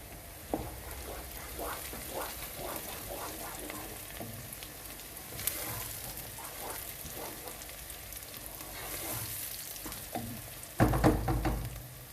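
Green chilies frying with onions in a pan for chicken jalfrezi, a soft steady sizzle and crackle running throughout with occasional light clinks, and a louder burst of spitting near the end.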